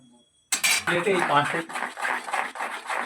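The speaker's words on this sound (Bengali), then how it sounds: "তেলটা বেসনের ব্যাটারের সঙ্গে খুব ভালোভাবে মিশিয়ে নিচ্ছি" Spoon scraping and clinking in a bowl while frying oil is mixed into gram flour (besan) batter for aloo chop, a burst of brisk rhythmic stirring and tapping, close and clear.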